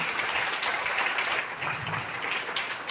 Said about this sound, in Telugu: మీరందరూ కూడా ఈ సంస్థను నడిపిస్తున్నటువంటి ఈ పెద్దలకు ఒక్కసారి గట్టిగా చప్పట్లు కొడుతూ నమస్కరించాలి